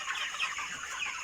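Broiler chickens at 28 days old cluck in a farm house, a dense chorus of soft overlapping clucks and chatter lasting about a second.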